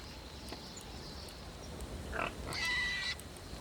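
A pig oinks in the fantasy role-playing video game Divinity 2 while standing in fire, giving a short grunt followed by a louder, longer squealing oink over a quiet game background.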